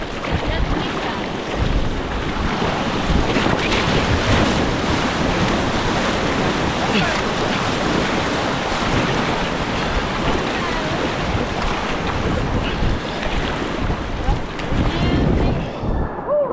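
Rushing white water churns steadily at Champagne Falls in the Grand Tetons area, a loud, continuous broadband roar with wind buffeting the microphone, sustained throughout.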